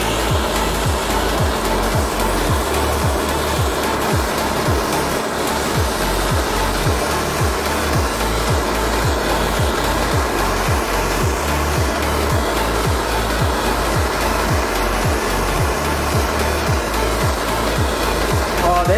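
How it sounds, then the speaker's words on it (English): Steady, loud roaring blowtorch flame burning a Twinkie, a continuous throaty hiss with a faint rattle that holds unbroken for the whole stretch. "we are gonna do blowtorch versus a Twinkie"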